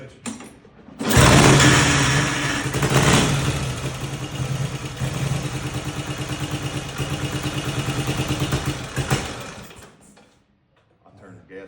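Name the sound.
vintage motorcycle engine starting and running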